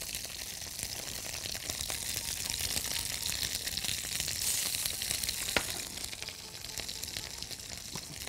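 Cherry tomatoes, rosemary and fresh thyme fry with mushrooms in a pan, giving a steady, close, even sizzle that runs throughout with no talking.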